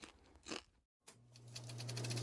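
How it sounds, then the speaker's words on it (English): Popcorn crunches up close in a quiet movie theater: a few crisp chewing crunches, a brief silence, then renewed crunching over a low steady hum. "the theater is quiet, except for some rustling here and there and some popcorn crunching"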